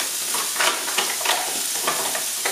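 Onions caramelize in a large frying pan with a steady, close hiss of sizzling, broken by soft scraping stirs at an uneven rhythm.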